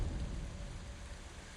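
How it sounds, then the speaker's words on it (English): Steady rain falling in Ghost of Tsushima, a soft, even wash of broadband hiss with a low rumble underneath, constant throughout with no voices. "This isn't a waterfall, it's just raining."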